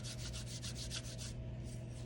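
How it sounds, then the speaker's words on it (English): Sandpaper rubs back and forth over a small wooden finger surfboard in quick, even strokes, a soft rasping rhythm of about eight passes that pauses briefly near the end, quiet and close with no voices. "go ahead and start sanding"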